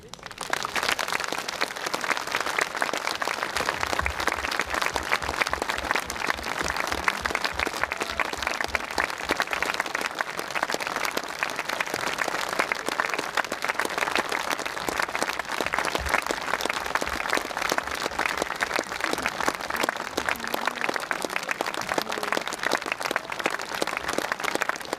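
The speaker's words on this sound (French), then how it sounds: "je voudrais simplement que vous les applaudissiez avec tout votre cœur" An audience at a French event applauds in one sustained, dense ovation. Many hands clap continuously and loudly for the whole stretch, with a brief patch of rhythmic unison clapping near the start.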